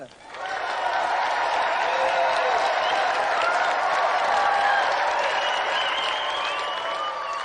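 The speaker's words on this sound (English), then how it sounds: "Another round of applause, then, for Nintendo champion Thomas Patterson and his challenger, Keith Pentland" On a TV video-game show, the studio audience claps for the Nintendo champion and his challenger; the dense applause stays loud and steady throughout, with a tonal musical line mixed in.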